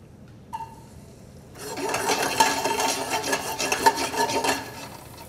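Raisins fry in shimmering hot oil for a coffee coloradito mole, stirred in a pan: a steady, close sizzle with scraping stir strokes that builds after a brief quiet start and a single soft knock.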